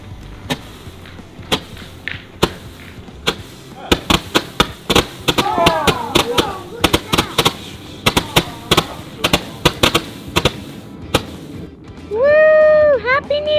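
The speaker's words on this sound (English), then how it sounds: "the fireworks is gonna be this one, the biggest one in the package" A gold star consumer firework from a New Year's Eve family celebration launches and bursts in a rapid series of sharp cracks and pops, with whistling crackle and excited voices between the bangs.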